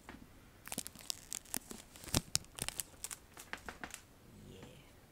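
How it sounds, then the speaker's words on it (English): Someone tears open the wrapping of a new deck of playing cards, a close, quiet run of crisp crinkles and rips in irregular bursts that thin out toward the end. "Okay, so opening the deck of cards."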